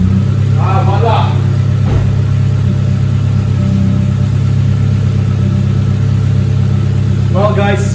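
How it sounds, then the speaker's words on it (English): An Asuna Sunfire with a fuel injector leak and hard-start problem idles after starting, a loud, steady low engine hum running throughout, while a person speaks briefly over it near the start and end. "the car just started right out without any hardship at all in the process"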